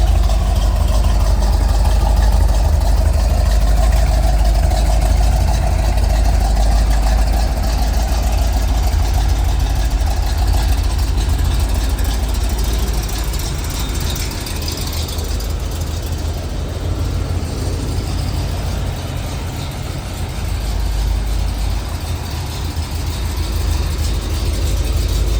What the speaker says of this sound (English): Let me start this puppy. It's an easy start. They tuned the carburetor for me.